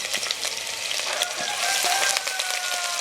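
Onions drop into about two tablespoons of hot vegetable oil and sizzle steadily with crisp, rain-like crackling, close and fairly loud, with no talking.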